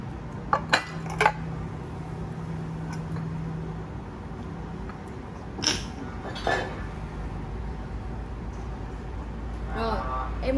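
Japanese ceramic plates being picked up and set down, giving a few sharp clinks near the start, another around the middle and more at the end, with faint talking underneath.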